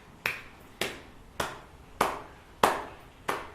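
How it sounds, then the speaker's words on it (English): A few scattered people in a wrestling crowd clap slowly, six sharp separate claps spaced about half a second apart, thin and unenthusiastic, with no talking. "3 people in the crowd clapping"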